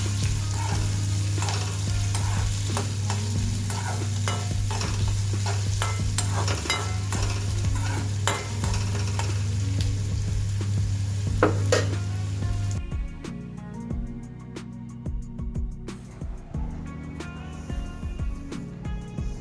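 Onions fry with a steady sizzle in a pan while being stirred, with repeated scraping and clinking of utensil against metal, close and continuous, ending in quieter sporadic scrapes.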